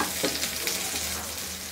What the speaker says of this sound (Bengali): রসুনটা আরও একটু মিনিট দুয়েক হয়তো লাগবে, রসুনটাকে ভেজে নিই।